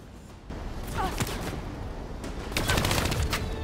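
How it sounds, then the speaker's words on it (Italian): Rapid bursts of gunfire from the video game Call of Duty Black Ops 3, set in Singapore, crackle in repeated volleys, growing louder and denser toward the end over a constant rumbling backdrop. "Chi è che mi spara?"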